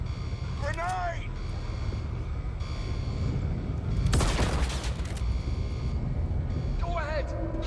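Grenade explosion with a burst of gunfire in the Star Citizen video game, a loud broadband blast around the middle over steady battle noise, with voices talking before and after.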